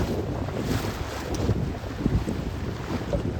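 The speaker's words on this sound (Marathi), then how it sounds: "या दोन खडकांमधून आता आपली बोट जाणार आहे." A boat motors through a narrow gap between sea rocks at Malvan, with wind buffeting the microphone and waves sloshing around it; steady and fairly loud, no talking.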